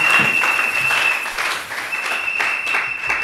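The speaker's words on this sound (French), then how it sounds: "si vous pouvez vous asseoir sous vos acclamations" Congregation applause at a church service, a steady wash of many hands clapping throughout, moderately loud with a faint sustained tone running beneath it.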